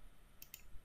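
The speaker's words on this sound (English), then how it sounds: "double click to open up the installer" A computer mouse double-clicked to open an installer: two quick, faint, close clicks in a quiet room.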